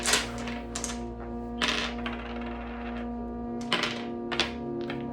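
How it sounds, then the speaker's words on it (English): Dice tumbling and clattering onto a surface during a tarot-style reading, several sharp knocks and rattles in short bursts spread over a few seconds, close and fairly loud with a steady hum beneath and no talking. "Let's see what the dice have to say."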